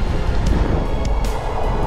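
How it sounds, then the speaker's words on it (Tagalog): Strong wind roars across the microphone while cycling on the Catanduanes bike loop, a dense, unbroken buffeting rush with small gusty swells and no talk. "Ay, lakas ng hangin."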